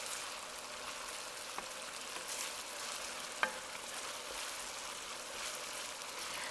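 Ham frying in a pan for fried rice, a steady soft sizzle throughout with a couple of faint clinks of a utensil, no voices.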